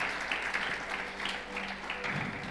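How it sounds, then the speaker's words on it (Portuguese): A church congregation applauding the Lord together, a steady, dense wash of clapping held at moderate distance throughout, with voices faintly mixed in. "dá uma aplauso bem forte ao Senhor"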